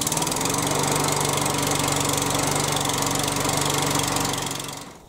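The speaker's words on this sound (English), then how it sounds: "and I can manually start the lawnmower." A Hyundai HYM430SPER self-propelled roller lawnmower's petrol engine runs steadily after a manual pull start, a loud, even, close drone with a rapid throbbing pulse that drops away sharply at the very end.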